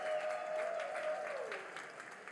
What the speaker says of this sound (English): How about another round of applause for all those sponsors?